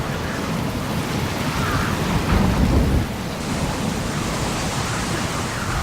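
Hurricane storm with heavy rain pouring as a dense, constant roar, while a low rumble of thunder swells in the middle before the downpour carries on evenly.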